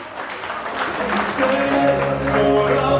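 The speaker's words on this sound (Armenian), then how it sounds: "դուք էլ ծափերով ոգևորեք" An audience claps to cheer, a dense, ragged patter of hands that builds and holds, with a sustained tonal voice or music running underneath.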